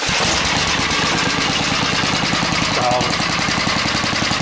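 A small engine runs steadily with a rapid, chugging rhythm, loud and close, continuing without pause for the whole stretch.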